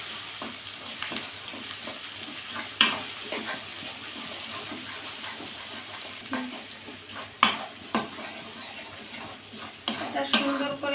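Spices and mustard paste sauté in oil in a pan, with a soft continuous sizzle and repeated scraping stirs and sharp clinks of a spoon against the pan at irregular intervals.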